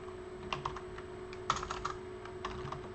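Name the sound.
typing on a computer keyboard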